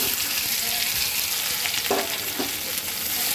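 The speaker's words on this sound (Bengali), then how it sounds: "আলুটাকে আমি সুন্দর কয়েক মিনিট আগে ভেজে নেব।" Boiled potatoes hit hot oil seasoned with cumin seeds and bay leaves, giving a loud, dense, continuous sizzle close by, with a few faint stirring knocks underneath and no voices.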